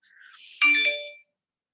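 A phone ringtone plays up close as a short bright chime of a few ringing tones, loud and alone, lasting under a second before cutting off into silence.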